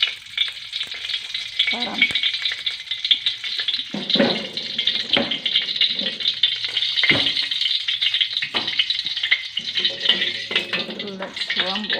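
Cooking oil poured into a hot pan still greasy from pork fat, hissing and sizzling steadily throughout with broadband crackle, while someone talks briefly over the frying in a home kitchen.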